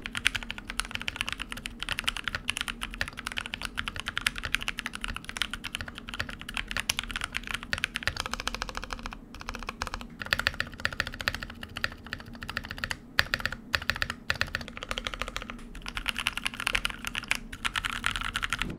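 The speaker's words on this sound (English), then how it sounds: "this is how the keyboard sounds like." Steady typing on a lubed, high-profile Drop mechanical keyboard, dense rapid keystrokes with a deep, muted thock, close and continuous with no talk.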